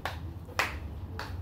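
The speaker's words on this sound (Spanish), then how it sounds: "Ahora vamos a caminar y aplaudir, caminar y aplaudir" Preschool children clap their hands as they walk during a physical education class, giving three sharp, separate claps about half a second apart in a reverberant room.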